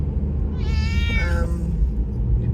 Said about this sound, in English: is one of our 3 cats.